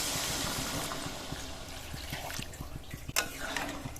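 Water poured into a wok of simmering home-style chicken curry, a steady hissing, gurgling pour that swells briefly near the end, heard close with no talk.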